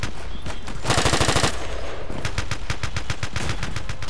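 Heavy machine gun fire in Battlefield 2, a long burst of rapid loud shots followed by further bursts of quick, sharp reports in a steady rhythm, close and dominant.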